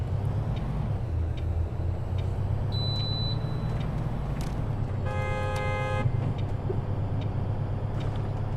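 In the City Transport Simulator game, a car horn gives one firm, sustained honk of about a second over a constant low rumble of traffic and engines, with a shorter, thinner beep a little earlier.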